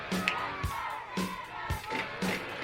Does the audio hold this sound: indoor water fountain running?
no